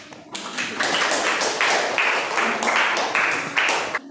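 A classroom of students claps together for a student group, a steady, dense burst of applause with sharp individual claps standing out, lasting several seconds before stopping abruptly.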